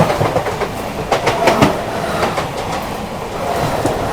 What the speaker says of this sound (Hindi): Local train crossing once again.